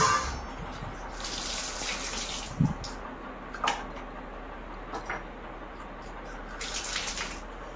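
Tea poured from a pot into a cup, a soft steady liquid trickle running for several seconds, with a few light clinks and knocks in a quiet kitchen on a rainy morning.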